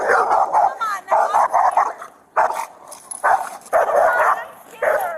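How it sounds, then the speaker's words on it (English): A pit bull on a leash barks in repeated loud bursts with yips and whimpers during a tense police encounter, the barking coming close and nearly continuous. "We got the dog on a leash."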